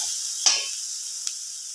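Ginger and green chillies sizzling in a hot pan make a continuous bright hiss, with a couple of brief crackles or ticks rising above it, close and without speech.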